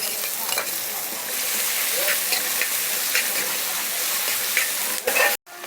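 Peppers and garlic sauté in a pan for eggplant moussaka, giving a loud, dense, close sizzle with occasional stirring scrapes that cuts off abruptly near the end.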